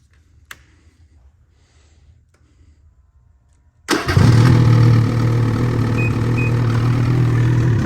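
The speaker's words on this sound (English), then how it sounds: "So I'll take this, plug it in right now, and start up the sled." A snowmobile engine in an enclosed space, with a brief quiet stretch before it cranks and catches abruptly, then settles into a loud, steady idle that continues to the end.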